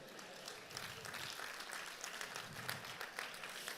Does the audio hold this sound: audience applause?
yes